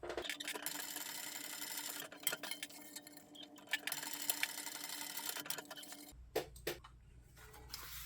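A sewing machine topstitches down both sides of an open seam on a handbag gusset, running in quiet bursts with ticking, clicking pauses and small handling knocks between stretches of stitching.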